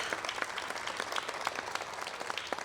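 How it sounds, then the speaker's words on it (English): Audience applause at a swearing-in speech, a quiet, steady patter of many hands clapping with a few sharper individual claps standing out, somewhat distant and sustained throughout. "I want you all to give a round of applause to yourselves because we are here."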